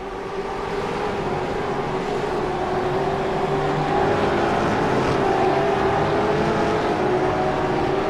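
A V8 race car in the iRacing sim accelerates during a V8 Vets championship round at the Red Bull Ring, a steady, loud engine drone that holds and rises slightly without a break.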